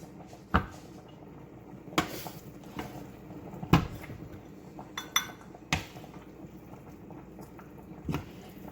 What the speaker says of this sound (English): So I'm just gonna mix all this in. And put it in his bowls as well.